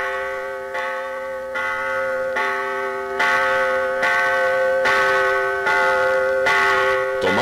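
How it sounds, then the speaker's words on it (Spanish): Cathedral church bells ring in a steady, repeated sequence at 6 in the evening, each resonant strike overlapping the last and building in loudness, with no voices. "las campanas de la catedral repicaban, anunciando la oración"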